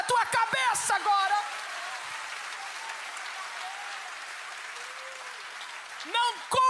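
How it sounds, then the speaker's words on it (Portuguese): A church congregation applauds with hands raised overhead, a dense, steady wash of clapping that fills the space for several seconds, with a voice speaking over it at the start and again at the end. "Você pode aplaudi-lo acima da tua cabeça agora."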